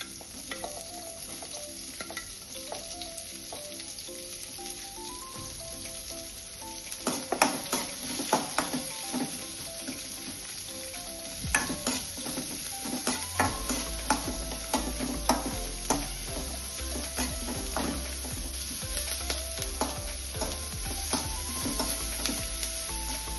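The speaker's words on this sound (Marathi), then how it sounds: "तेल मातशें गरम जातकच तो कातरलेलो कांदो आसा तो भाजून घेवया" Chopped onion fries in about two tablespoons of hot oil for a Goan crab masala, a steady close sizzle with scraping stirs and occasional ticks of a spoon against the pan, no voices.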